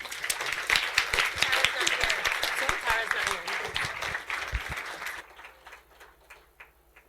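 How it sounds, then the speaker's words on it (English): Conference audience claps loudly for a presenter at a games and play industry event, dense applause that fades out after about five seconds, leaving quieter room sound with a voice. "Please give them a huge round of applause."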